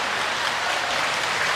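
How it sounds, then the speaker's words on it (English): Steady crowd din filling a weightlifting competition venue, a broad even wash of many voices and clapping with no breaks, fairly loud. "The crowds are here. You can hear the noise in the background."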